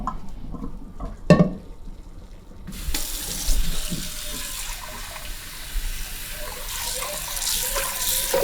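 Water gushes into a kitchen sink as salted rice is drained, a close, steady running stream that starts after a brief clink and continues to the end.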